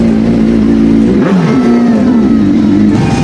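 Big bike motorcycles rev and pass by on a city road in the Philippines, loud and close, with a sustained engine roar whose pitch dips and climbs as they go past.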